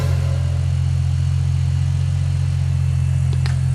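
A drag car engine idling steadily just after starting, a loud, continuous low rumble that holds even throughout with no talking.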